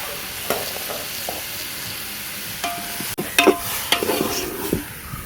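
Chicken slowly frying in a pan for a Tulu-style chicken curry, a steady soft sizzle with scattered stirring clinks and scrapes that grow busier in the second half.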